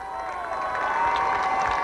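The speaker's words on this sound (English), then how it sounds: "Kuemper crowd getting excited here" Home crowd at a Kuemper Catholic high school football game against Underwood cheering loudly and steadily, a broad roar of many voices rising slightly across the moment.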